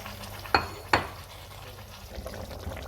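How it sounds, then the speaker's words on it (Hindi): Tomato paste hits a hot pan for aloo bhujia, giving two sharp spoon clacks against the pan followed by a soft, steady sizzle underneath, close and moderately quiet. "अब मैं इसमें ये टमाटर का पेस्ट जो है वो ऐड कर दूँगी।"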